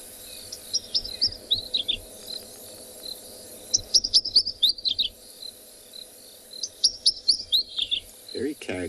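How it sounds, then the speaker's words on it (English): Ashy flycatcher call played back outdoors on an evening safari in riverine bush, three bursts of quick high twittering notes over a steady insect and cricket background. "I'll try to play an ashy flycatcher for you."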